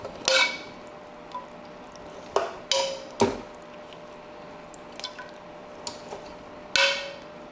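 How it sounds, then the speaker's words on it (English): Chipotle peppers in adobo sauce drop into a blender jar, a series of wet squishy plops and splats with sharp onsets at irregular intervals, close and fairly quiet, with no talking. "we add all of our peppers into the blender"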